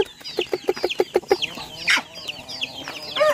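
Rhode Island Red chickens cluck in a quick run of sharp, rhythmic calls up close, then give looser, scattered clucks and squawks as the flock settles.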